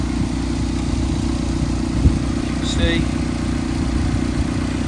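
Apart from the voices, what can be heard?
tuned Mazda MX5 engine running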